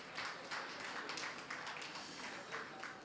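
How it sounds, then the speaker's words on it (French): Audience applause for award recipients at a ceremony, a steady, dense patter of many hands clapping continuously at moderate distance, with no talk over it. "Merci à tous les récipiendaires que je vous prierai d'applaudir"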